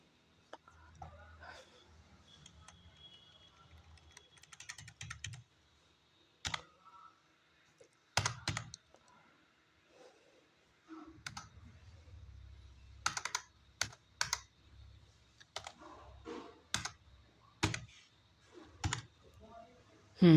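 Java code is typed on a computer keyboard in quick, close bursts of clicking keystrokes, separated by short pauses and a few louder single key taps, over a quiet room.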